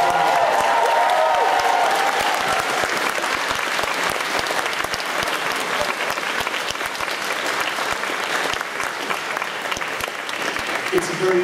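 Convention audience at a closing ceremony cheers and applauds loudly and steadily for the full stretch, a dense wash of clapping with crowd voices mixed in and no single speaker.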